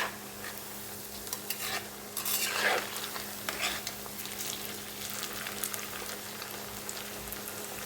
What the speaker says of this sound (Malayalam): പതുക്കെ നമുക്കൊന്ന് ഇളക്കി കൊടുക്കാം. നമുക്കിതൊന്ന് മറിച്ചിട്ട് കൊടുക്കാം.